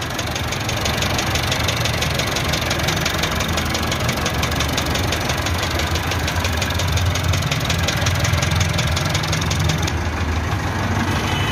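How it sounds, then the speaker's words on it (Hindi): A 2018 Massey Ferguson MF 385 tractor engine with a valve fault idles loud and close, a steady rumbling drone with a fast, even knocking tick running through it the whole time. "उहदे ना इंजन दे विचों ना एक अजीब जी आवाज़ आ रही"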